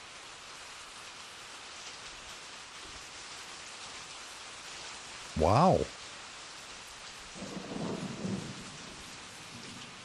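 Steady rain hiss from a Minetest weather mod runs throughout, with a rumble of thunder rising midway, and a voice speaks over it.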